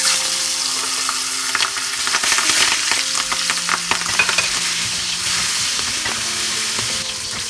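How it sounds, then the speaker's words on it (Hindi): Rohu fish pieces shallow frying in mustard oil over a medium flame, giving a steady, close crackling sizzle with scattered pops and spatter throughout, no voices. "अभी फिश पीसेस शैलो फ्राई करना है।"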